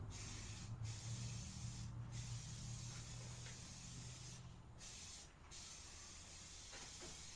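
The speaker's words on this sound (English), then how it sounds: "a little bit of spray paint. Paint right along the tape." Spray paint hissing along masking tape on the chassis of a 1974 Rat King rat rod, a continuous close spray with a few brief pauses between passes.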